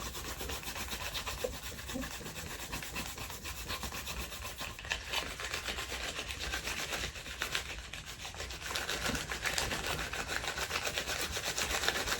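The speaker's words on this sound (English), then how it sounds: "Trying to rub your hands to keep yourself" Hands rub together briskly for warmth in an imagined cold climb of Mount Everest, a steady, close, dry friction that runs without pause throughout.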